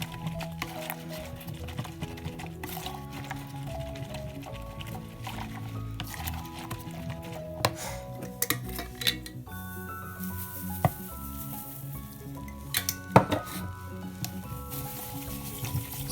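A spoon stirs mashed potatoes with herbs into dry milk in a pot, giving soft squishy scraping and occasional clinks of utensil on cookware, close and fairly quiet.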